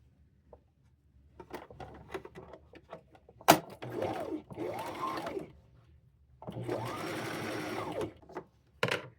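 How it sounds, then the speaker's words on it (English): A sewing machine stitches two shirt pieces together in two whirring runs, a short burst and then a longer steady one, separated by clicks and fabric handling, close and fairly loud. "Now we've got to sew these two pieces together."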